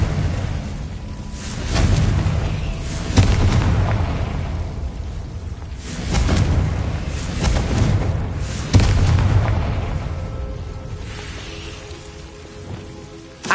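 Confringo blasting spells explode in Hogwarts Legacy in a run of heavy booming bursts, each followed by a crackling rumble that fades. The blasts come every few seconds, loud and close, with no speech over them.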